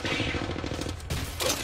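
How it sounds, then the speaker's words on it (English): Rapid bursts of gunfire from a battle-royale style shooter game fill the clip, dense and loud with a brief break before another volley. "Stop shooting me!"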